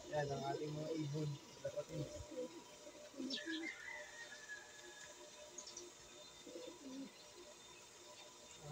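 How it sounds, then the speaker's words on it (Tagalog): Racing pigeons coo in a low, murmuring chorus close by, with some higher chirps and a brief whistle-like call, while a few background noises come and go. "Yan ang ating mga ibon."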